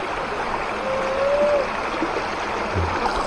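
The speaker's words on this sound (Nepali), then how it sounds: "यहाँ खोला छ" A river flows steadily in a broad, continuous rush near a cremation ghat, with a brief faint tonal whine partway through and no talking.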